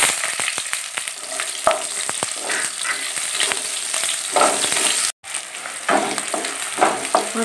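Chopped onions fry lightly in a pan with two bay leaves. A continuous close crackling sizzle is broken by stirring scrapes and clicks, with one brief dropout partway through.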